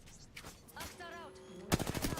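Gunfire from a close firefight in Apex Legends crackles in short bursts mixed with game voice lines and effects. A heavier burst breaks in near the end.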